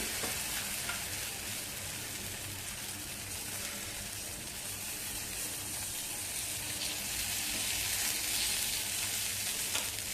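Moong dal paratha batter, spread on a hot pan greased with ghee or oil, fries with a steady, dense hiss and sizzle that swells slightly toward the end, with no voices.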